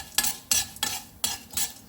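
Fenugreek seasoning is stirred and fried in a pan for a pulusu. Four quick scraping strokes of a spoon against the pan come in a loose rhythm over a faint sizzle, with no talking.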